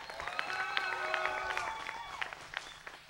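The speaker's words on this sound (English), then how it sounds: "Guys, let's give it up for everybody who's been up here on the stage tonight." Audience at an open stage performance clapping and cheering for the performers, a dense spread of claps with a few whoops, heard from a distance and fairly faint.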